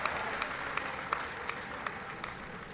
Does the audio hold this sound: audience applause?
yes